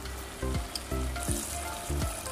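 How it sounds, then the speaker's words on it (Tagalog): Beef offal with crushed black pepper sizzling in a hot pan, with several sharp scraping stirs of a utensil against the pan over a steady frying hiss. "Halo-haloin lang natin."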